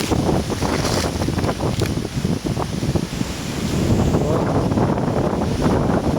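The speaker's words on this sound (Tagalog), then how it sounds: "lakas ng hangin" Strong wind buffets the microphone with loud, rumbling gusts, and a watery wash sounds in the background.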